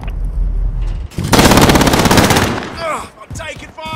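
Loud automatic gunfire in Call of Duty: Modern Warfare: a sustained, rapid burst of shots, then shouted in-game voices over scattered battle noise.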